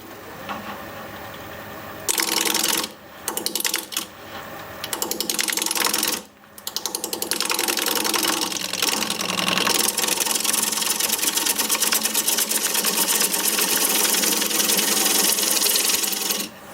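A wood lathe spins a live edge bowl turned from a cracked log, giving a loud continuous whirring rumble with a few short breaks early before settling into a steady hum.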